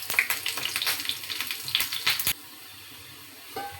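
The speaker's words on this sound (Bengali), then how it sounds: "অবশেষে আমার মাছের কাবাবগুলো ভাজা হয়ে গেল।" Rohu fish kebabs frying in oil crackle and spit in loud irregular bursts for about two seconds, then cut off to a quiet hiss.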